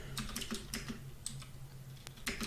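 Quick bursts of close key clicks on a computer keyboard come in short irregular runs with brief pauses, quiet and alone in a still room.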